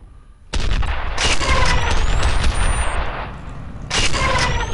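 Rockets and gunfire in the shooter game F.E.A.R., a loud dense burst of explosive blasts and rapid shots that runs for several seconds, eases, then erupts again near the end.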